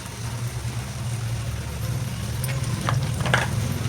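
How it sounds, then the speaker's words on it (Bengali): Spices with green chili frying and being stirred in a pan, a steady low sizzle with a constant hum beneath and a few scraping strokes growing slightly louder toward the end. "এবার সব কিছু মশলা একটু ভালো করে কষিয়ে নেব।"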